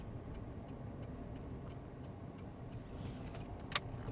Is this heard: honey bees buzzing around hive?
no